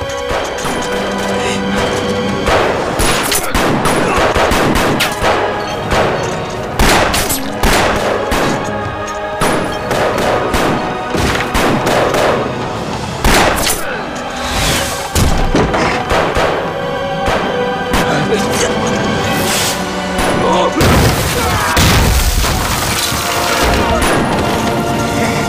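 Loud, dense gunfire rings out during a battle in a kung fu anti-Japanese war action film, with rapid repeated shots, crashes and booms forming a constant, chaotic barrage.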